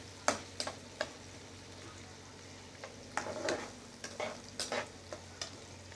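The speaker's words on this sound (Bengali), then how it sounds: "তেলের মধ্যে পেঁয়াজ দিয়ে দিয়েছি কালো জিরে ফোড়ন দিয়ে, এবার ভালো করে নাড়িয়ে দেবো," Sliced onions with black cumin seeds fry in hot oil, a soft steady sizzle broken by repeated scraping stirs, several sharp scrapes in quick clusters, fairly close and not loud.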